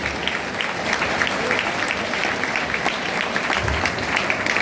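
A seated audience at a Hindi poetry recital applauds steadily, the dense clapping filling the hall at an even level for several seconds with no talk over it.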